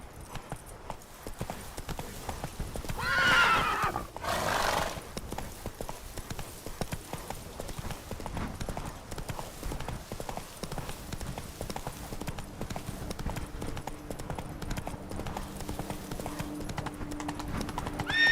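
Horse hooves clip-clop steadily in a Witcher 3 game scene as the horse, Roach, gallops, with a brief whinny early on and faint game ambience underneath.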